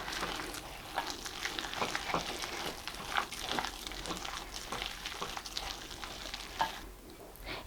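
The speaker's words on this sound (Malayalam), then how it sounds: "ചെറിയ ചൂടുള്ള വെള്ളം ഇതുപോലെ ഒഴിച്ചു കൊടുത്തിട്ട് വീണ്ടും ഇങ്ങനെ തന്നെ കുഴച്ചു കൊടുക്കുക" Pakoda dough is worked by hand with warm water poured in, making soft, wet squishing and slapping sounds in an irregular rhythm, close by, with no talking.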